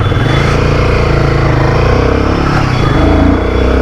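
Royal Enfield Guerrilla 450 motorcycle ridden through narrow lanes, its engine loud and close with a steady, throbbing rumble that varies a little as the throttle changes.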